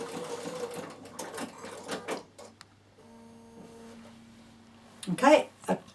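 A Bernina sewing machine sews a quarter-inch seam in white thread, a steady mechanical stitching whir running under a woman's speech, then going quiet before she speaks again.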